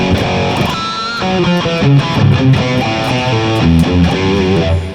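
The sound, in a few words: Les Paul electric guitar pickups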